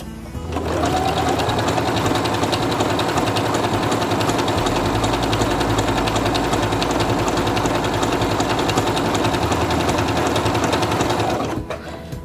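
SINGER Quantum Stylist 9960 computerized sewing machine stitching a mirror-image pattern, a fast steady mechanical whir and rapid needle chatter running continuously for about ten seconds before stopping, close and loud, no talking.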